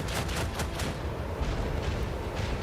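Heavy cannon fire in the Warhammer 40K: Rogue Trader video game, a run of booming gunfire blasts with dense low rumble filling the whole moment, loud and close with no talk.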